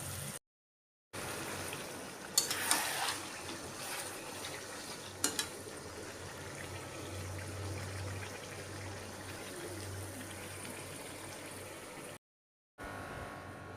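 Marinated chicken frying in hot oil with browned onions and spices, a continuous close crackling sizzle with a few louder pops and clatters, broken by two short gaps of silence, no voices.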